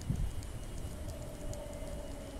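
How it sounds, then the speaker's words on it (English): Low, steady rumble of a not-in-service train rolling through McIver Station at a distance, faint and continuous with a thin tonal whine above it. "while this not-in-service train pulls through the station"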